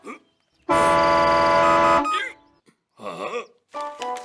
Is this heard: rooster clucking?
no